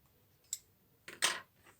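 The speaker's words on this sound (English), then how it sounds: "you can use a pair of scissors just to trim that rounded corners away" Scissors trim rounded corners off paper during a fussy-cutting craft job, giving a few quiet close snips, one faint crisp cut followed by a brief cluster of louder slicing sounds, with no talk.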